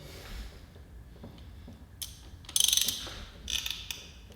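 A ratchet loosening a tight spark plug on a Golf Mk6 R engine, with a quiet mechanical lead-in followed by two short bursts of rapid ratcheting clicks, close and fairly loud.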